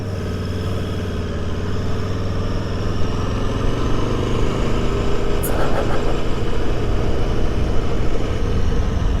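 Riding a 2021 Aprilia Tuono motorcycle in San Diego, with a steady, loud engine drone and wind rush throughout, and a car passing close by midway.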